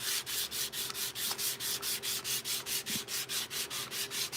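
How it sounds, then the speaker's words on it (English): Steady back-and-forth sanding of a paper model coated in biodegradable paint, about twenty even, close strokes in a regular rhythm with no talk. "You have to sand this, even though this is biodegradable paint."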